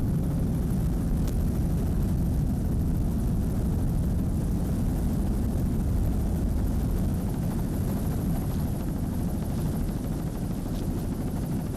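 Offshore racing boat with a single 500 hp Mercury inboard, racing on rough water at the Cape Cod Rendezvous, a steady loud engine roar with wind and water noise throughout.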